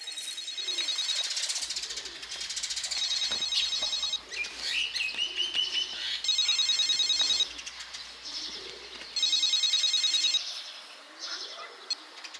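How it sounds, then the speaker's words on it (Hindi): A telephone rings in repeated bursts of bright electronic trilling, several rings with short gaps between them, while birds chirp faintly in the background. "धत तेरी की, ये फोन कितना बज रहा है?"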